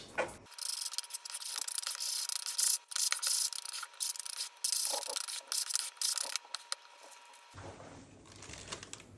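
A spoon mixes dry skyr in a bowl. Close, repeated scraping and rubbing strokes run continuously for several seconds, then stop.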